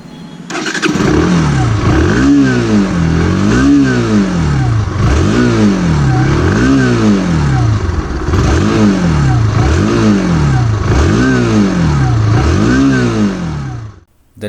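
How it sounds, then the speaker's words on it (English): A Bajaj Pulsar NS 160 motorcycle with an underbelly exhaust revs repeatedly in steady, rhythmic blips. Its loud, close, bassy note rises and falls for the full stretch, then cuts off at the end. "The NS 160 gets an underbelly exhaust, and the exhaust note is crisp and bassy."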